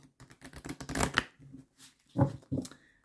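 Oracle cards are shuffled by hand in quick riffling bursts, a dense flurry of crisp slaps followed by a few separate louder taps, close up with no talk.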